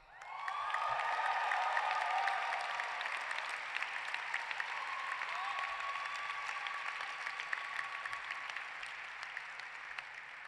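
Sustained audience applause at a 2016 Wharton MBA graduation ceremony as a scholar's name is called, a dense wash of many hands clapping that swells early and holds steady, with faint scattered cheers.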